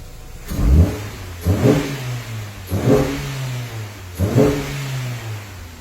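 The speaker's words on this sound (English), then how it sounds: "Rev it up while we're here." A 2006 Mini Cooper automatic revs four times in a row, each throttle blip rising sharply from idle and falling back. The engine is loud and close, with even gaps between revs.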